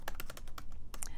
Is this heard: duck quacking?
no